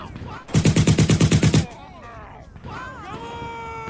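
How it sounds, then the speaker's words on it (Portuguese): Close, loud bursts of automatic gunfire in the video game GTA V, a rapid run of about ten evenly spaced shots, followed by quieter electronic game sounds and tones. "Coitado do Franca, meu Deus, levou um monte de tiro aí no bumbum, tadinho."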